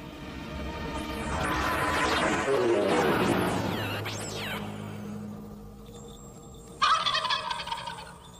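A half-plucked turkey gobbles loudly in a run of rapid, warbling calls that fade out, followed by a sharp clattering burst near the end, with no talking.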